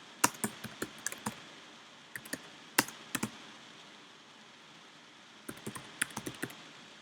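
Bursts of quiet typing on a computer keyboard, with clusters of quick key clicks separated by pauses and one longer gap in the middle.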